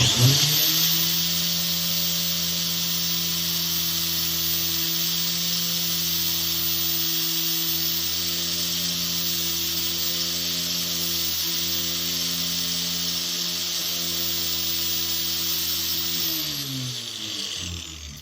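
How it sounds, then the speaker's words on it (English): A bench grinder grinds down a part from a 727 transmission shift kit, making a loud, steady, high whine that holds for about eighteen seconds before winding down at the end. "So I got her in the old bench grinder here. We're just gonna trim some off, shorten her up."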